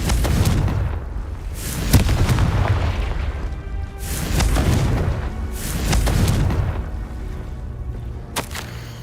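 A Confringo fire spell blasts in Hogwarts Legacy, several deep booming explosions rolling out roughly every two seconds. Each swells and fades over a steady background, with a sharp crack near the end and no voices.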